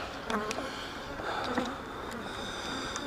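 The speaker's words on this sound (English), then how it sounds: "there's a bunch of bees, bunch of drones" Honey bees and drones buzz at an opened hive during a summer inspection, a steady close hum with faint handling noises.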